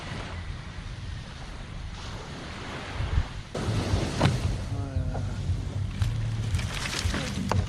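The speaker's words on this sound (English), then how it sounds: "The beach behind me." Waves break and wash onto a beach in a continuous roar of surf, with gusts of wind buffeting the microphone and a few close knocks and rustles.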